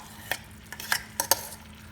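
Kadai masala is stirred in a frying pan while cooking Indian-style fried fish, a few distinct scraping strokes of a utensil against the pan over a low background hum.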